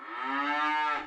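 A single loud, close cow moo used as a sound effect in a radio farm news segment about a cattle auction, rising and holding steady for about a second before cutting off cleanly.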